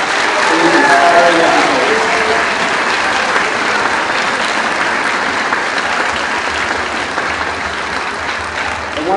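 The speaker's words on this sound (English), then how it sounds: "Please join me in a very well-deserved round of applause." A school audience at a 7th grade winter concert breaks into loud, sustained applause with crowd noise, peaking early and then continuing steadily, with a voice briefly heard underneath at the start.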